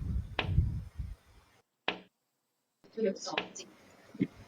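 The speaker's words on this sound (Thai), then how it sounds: "ใครเคาะกระจกวะ" Sharp knocks on glass in the Teke Teke horror video game, a single crisp rap followed after a pause by a few more scattered taps, with a person talking before and after.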